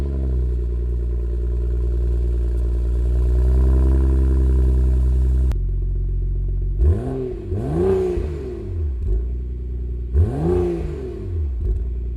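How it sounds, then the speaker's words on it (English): A BMW E92 with a sporty exhaust, better intake and bigger intercooler holds a steady high rev, then drops and barks through several sharp throttle blips with rising and falling engine note, loud and close. "The car has a sporty exhaust system"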